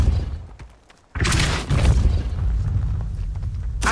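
A Depulso spell from Hogwarts Legacy lands as a sudden booming blast after a near-silent second, then a sustained rumbling, crackling wash that trails off before a fresh burst at the end.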